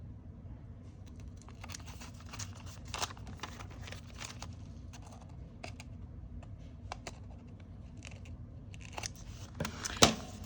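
Scissors angle-cutting folded paper, a faint run of small, irregular snips and crisp paper rustles close by, with a sharper snip near the end.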